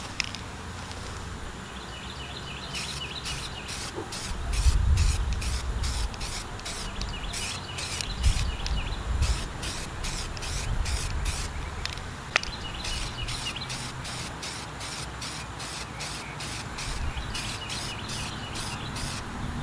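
Light coats of spray primer hiss from an aerosol can onto a Reuleaux DNA200 vape mod, sounding as a long series of short, rapid bursts under a steady background hiss, close and moderately loud.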